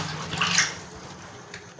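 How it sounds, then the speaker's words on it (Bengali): Water left from washing is tipped out of a container in a short splashing gush, close and fairly quiet, fading to trickles with a small splash at the end. "জলটাকে ফেলে দিলাম।"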